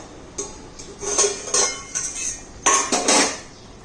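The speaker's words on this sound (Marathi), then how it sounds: "आता आपण झाकण काढून चेक करून घेऊया" Metal lid lifted off a cooking pot of methi bhaji, producing several clanks and scrapes of metal on metal, close and fairly loud, in two bursts with a short pause between.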